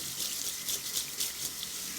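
Running water rinses sediment out of a small container, a steady close hiss of flowing water with a slight rhythmic swishing pulse.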